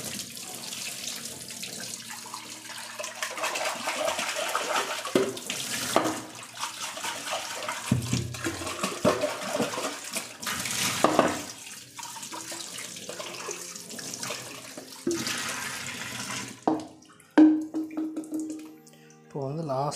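Tap water running while RO water filter parts are rinsed in a sink, an uneven splashing wash with bursts and pauses as pieces are moved under the stream, with someone talking intermittently.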